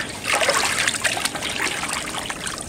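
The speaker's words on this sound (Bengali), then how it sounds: "মাছটাকে আমি সুন্দর করে ধুয়ে নেব।" Water runs and trickles steadily while pieces of magur catfish are rinsed by hand in a village kitchen, a close, continuous splashing flow with no talking over it.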